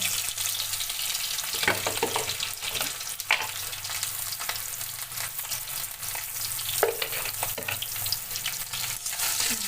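Raw mango slices sizzle as they are sautéed with salt and turmeric for a sweet-sour-spicy mango pickle, a steady close frying hiss broken by occasional stirring scrapes.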